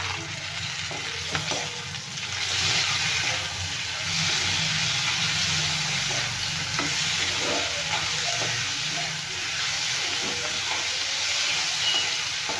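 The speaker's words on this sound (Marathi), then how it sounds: "आता हे टोमॅटो पण आपल्याला नरम होईपर्यंत भाजून घ्यायचे" Tomatoes and onion frying in ghee in a pan for a gravy, a steady, dense sizzle running throughout with faint stirring scrapes, close and continuous with no talk over it.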